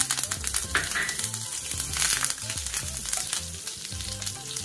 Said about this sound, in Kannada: ಸೊ ಈಗ ಸಾಸಿವೆ ಜೀರಿಗೆ ಎರಡನ್ನು ಹಾಕ್ಕೊಳ್ತೀನಿ. ತಕ್ಷಣ ನಾನಿಲ್ಲಿ ಕರ್ಬೇವಿನ ಸೊಪ್ಪನ್ನ ಹಾಕ್ಕೊಳ್ತೀನಿ.